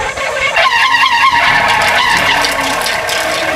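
A kolecer wind propeller toy spins with a loud, rapid, rattling clatter and squealing whir, close and continuous, its pitch shifting as the wind changes.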